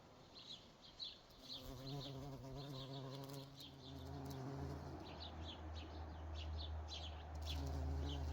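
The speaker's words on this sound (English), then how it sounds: "there's a lot of loud buzzing from this honeysuckle under which I'm sitting" Steady loud buzzing of bumblebees and hoverflies close by in a honeysuckle, continuous throughout, with a few faint bird chirps in the background.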